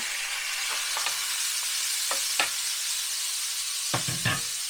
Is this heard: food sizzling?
yes